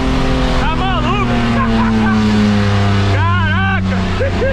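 Ferrari engine revving hard and accelerating up close, a loud sustained roar with rising and falling pitch sweeps as it surges, people talking excitedly over it.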